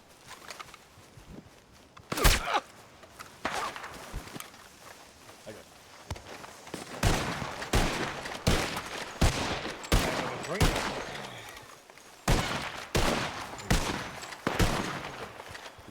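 Gunfire in a Red Dead (WildRP) shootout, sharp shots cracking out irregularly, some in quick bursts, alongside hoofbeats and footsteps, with people talking in between.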